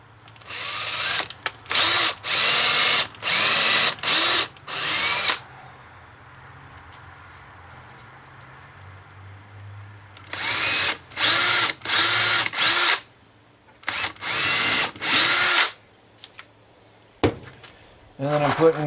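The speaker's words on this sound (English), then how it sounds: "So I'm pre-drilling." A power drill pre-drills holes in wood for deck screws while a passive food dehydrator is being built, whirring in repeated short bursts of a few seconds each, close and loud, with quieter pauses and some talk between bursts.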